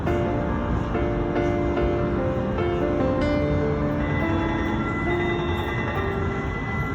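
Portland light rail train running on its rails, a loud continuous rumble with metallic wheel ringing and squealing tones heard from close by, steady for the whole stretch without voices.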